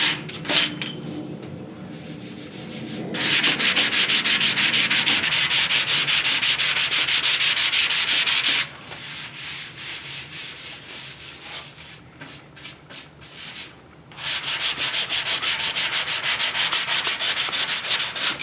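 Loud, close rasping of sandpaper shaping body filler on a 1969 Mustang fender, worked back and forth in quick rhythmic strokes, broken by a few short pauses.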